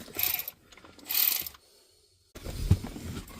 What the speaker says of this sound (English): take our number 6 on our ratchet